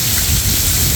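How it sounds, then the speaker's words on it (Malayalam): Heavy afternoon rain driven by strong wind, splashing water in through an open door. It gives a dense, constant roar of pouring rain, close and loud throughout. "നല്ല അടിപൊളി മഴയാണ് ഇപ്പോഴും."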